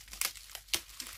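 Bubble wrap is handled and crinkles in brief, sharp bursts. There are three or four crisp rustles at close range, with quiet pauses between them.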